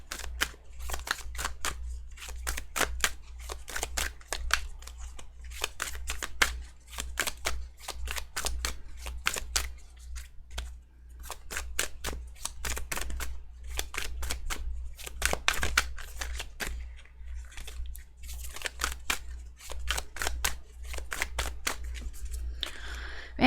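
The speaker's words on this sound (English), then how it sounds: "Man, it's making me shuffle so much." Tarot cards are shuffled continuously and briskly, a long run of crisp riffling slaps and snaps repeating in quick bursts with brief pauses, close up over a low steady hum, with no talking.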